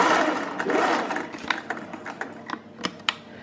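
A sewing machine stitches across the bottom of a dress side gusset, a close, busy mechanical chatter with sharp ticking clicks as the stitching slows and pauses near the end.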